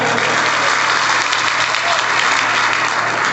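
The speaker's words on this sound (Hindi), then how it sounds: "इन बेटियों के लिए ताली बजाइए जोरदार" Loud applause from a crowd at a Navratri religious discourse gathering in Khachrod, strong continuous clapping that stays steady throughout with a low electrical hum beneath.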